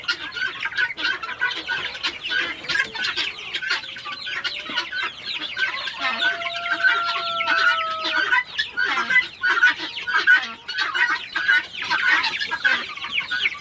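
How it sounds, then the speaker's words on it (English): Bantam chickens clucking among a large flock of birds, a dense continuous chatter of clucks and squawks with a few longer calls rising through, close and fairly loud with no talk. "They're little bantams."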